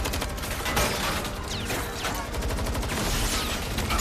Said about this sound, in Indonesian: Aksi kejar-kejaran dan saling tembak terjadi antara perampok dengan para sandera yang memberontak.